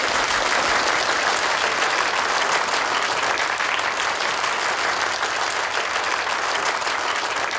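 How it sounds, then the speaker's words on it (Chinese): A crowd at a company's 20th anniversary gala reception claps steadily and loudly throughout, sustained applause with no talk. "掌声欢迎"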